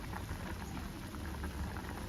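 Bitter gourd tamarind curry simmering in a pan, a soft continuous bubbling with faint pops, low and steady for a couple of seconds without any voices.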